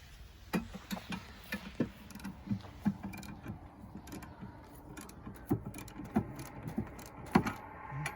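A jack lifting a heavy cabin step gives off a steady series of quiet mechanical clicks and ratcheting ticks, fairly regular and faint, with no voices over them.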